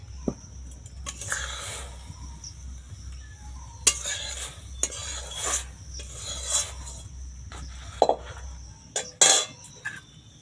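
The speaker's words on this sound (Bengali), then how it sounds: "চামচের পিছন দিক দিয়ে আস্তে আস্তে চেপে চেপে রসটা বের করে নেব" The back of a spoon presses soft cooked apple through a sieve set over a bowl, making intermittent close scraping and rasping strokes with small metallic clinks and quiet gaps between them.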